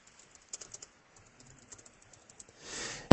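Light, irregular keystrokes on a computer keyboard while a short informal chat note is typed, soft clicks scattered across a few seconds before a brief louder whoosh at the end.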